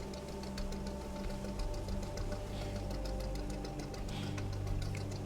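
A fishing boat engine in Fishing: Barents Sea chugs with a steady, rapid knocking rhythm as the throttle eases back, a fairly quiet continuous drone with no voices.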